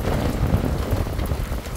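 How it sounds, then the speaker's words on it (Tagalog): Steady rain patters continuously with a low rumbling wash, fairly close and even, with no voices over it. "May ulan yan."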